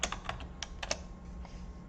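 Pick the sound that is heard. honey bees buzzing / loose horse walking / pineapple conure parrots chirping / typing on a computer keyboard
typing on a computer keyboard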